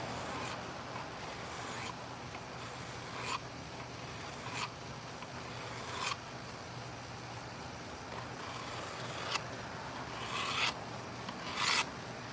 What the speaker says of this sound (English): it's good to practice sharpening these so you can touch up your actual hunting